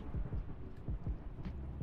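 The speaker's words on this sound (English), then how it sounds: "Oh, that's a thunderstorm." Thunderstorm in a farming video game, with quiet rain and soft low thunder rumbles rolling in repeated waves, faint and steady.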